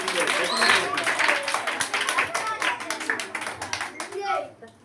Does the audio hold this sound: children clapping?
yes